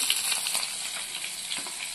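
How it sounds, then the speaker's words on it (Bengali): Fish pieces and fish heads frying in a pan at home, giving a steady, close, broadband sizzle with faint crackles throughout and no voices. "এদিকে আমাদের মাছ ভাজা চলছে, প্রায় হয়ে এসেছে।"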